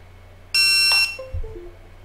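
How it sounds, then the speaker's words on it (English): A single bright electronic beep lasting about half a second sounds from a computer as a Hubsan Zino drone controller connects for a firmware update, followed by faint low clunks, with quiet background hum and no talking. "now we hear a beep on the computer that we are connected."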